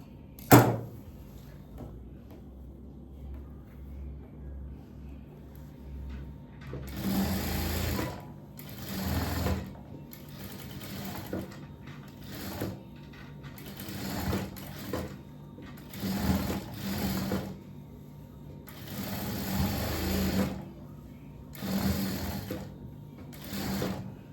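A sewing machine stitches a churidhar in several separate bursts of rapid whirring, close by, separated by quiet pauses that hold small handling clicks, with an opening knock at the start.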